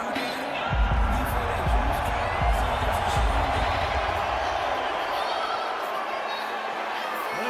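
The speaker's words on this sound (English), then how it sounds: "There's the reception from the American crowd." An American arena crowd cheers boxer Deontay Wilder's ring entrance before his third heavyweight fight with Tyson Fury, a steady roar of distant voices with scattered thuds and a commentator talking over it.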